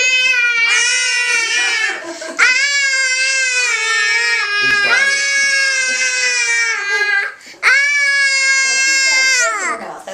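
A baby cries loudly and close up in long, wailing bursts separated by brief gasping pauses, with the sobbing rising and falling in pitch.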